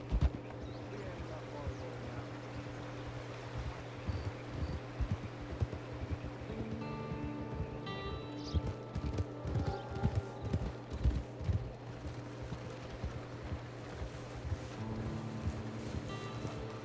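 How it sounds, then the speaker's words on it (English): Horse hooves clip-clopping at a steady walk in Red Dead Redemption 2, moderately close under soft ambient music and outdoor background, with a voice speaking at times. "It's your horse."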